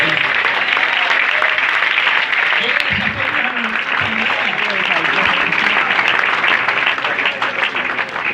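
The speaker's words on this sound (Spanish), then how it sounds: "Hermano, aplauda la presencia de Dios" Congregation applauding during a Catholic teaching service, a dense, steady wash of clapping that runs through the whole stretch with voices mixed in underneath.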